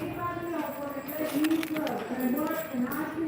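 A five-year-old bay quarter horse stud shifts around in a stall, soft hoof steps and rustling under a steady background hum while someone talks nearby.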